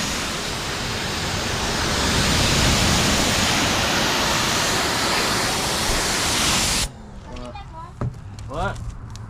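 Loud, steady broadband spray rushing for about seven seconds inside the body of an OBS Chevy truck, then cutting off abruptly to leave quieter background noise with a few short sounds.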